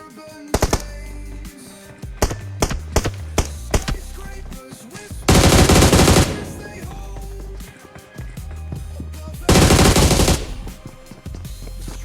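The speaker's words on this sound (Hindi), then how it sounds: "मुझे सामने वाले घर से गोली चलने की आवाज़ आ जाती है" Gunfire in the mobile battle royale game BGMI, with scattered single shots and short bursts, then two loud sustained automatic volleys in the middle and near the end, all fairly close and prominent.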